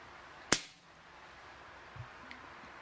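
A single sharp crack from a pump air pistol fired after ten pumps, close and loud, followed by quiet room tone and a faint knock.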